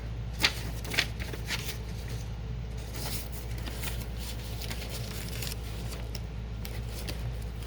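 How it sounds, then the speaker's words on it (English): Sheets of paper and vintage book pages rustle and shuffle close by while being sorted at a craft table, a steady dry crinkling texture with two sharper snaps near the start and no talking. "just digging through my papers over here"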